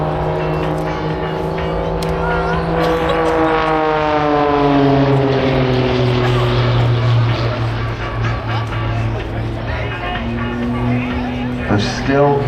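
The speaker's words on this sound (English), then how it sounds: "Now watch it as he pulls the power back on the aircraft and just hangs in the air with the propeller" A jet-modified propeller aerobatic aircraft rolls overhead at the Blackpool airshow, its engine a loud, steady drone that rises and falls in pitch as it turns and the power changes.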